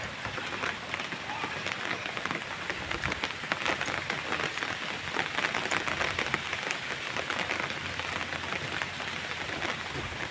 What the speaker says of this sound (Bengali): কিন্তু এখন প্রচণ্ড বৃষ্টি হচ্ছে